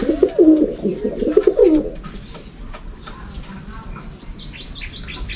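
Racing pigeons coo loudly at first in several low, rounded phrases, then fade to quieter chirps and twittering from other birds.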